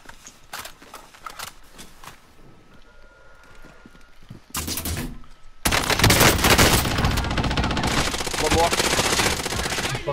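Gunfire in the video game Call of Duty: Cold War, scattered sharp shots early, then a loud burst and sustained rapid firing through the second half, with players talking over a game headset.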